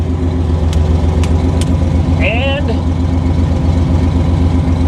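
Steady low rumble of a Dodge Charger Scat Pack's V8 idling close by, with a brief chirp partway through and someone speaking a word over it.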